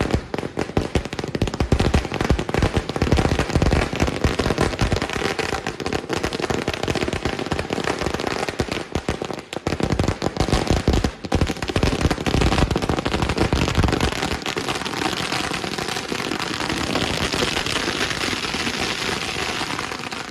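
Firecrackers burst nonstop in dense, crackling volleys during a political celebration in a town square in Wandoor, Kerala, marking a local leader's swearing-in as minister; the rapid pops stay loud and close throughout with no talk.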